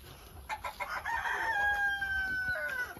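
A Rhode Island White rooster crows once nearby, drawn out and loud, with Rhode Island White chickens clucking softly around it against quiet farmyard background.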